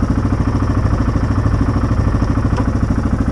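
A Yamaha Grizzly ATV engine running on a test ride, a steady loud mid-pitched rumble with a fast even pulsing beat throughout, no voices.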